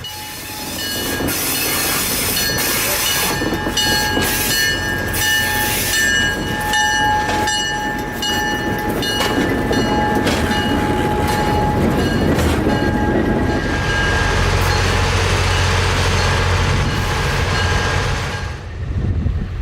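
An old Alco diesel locomotive rumbles along the track with squealing wheels and metallic clatter, steady and fairly close, ending with a low engine drone.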